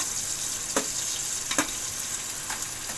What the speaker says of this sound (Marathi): मी आता तेल टाकलं आहे आणि त्याच्यामध्ये जो आपण कांदा कापून ठेवलेला तो टाकलेला आहे